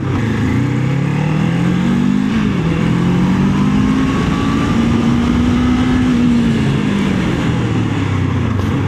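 Kawasaki Ninja 500 2025 sport motorcycle engine on a test ride, a steady loud drone with pitch rising and falling through revs and gear changes, close and continuous with no talk.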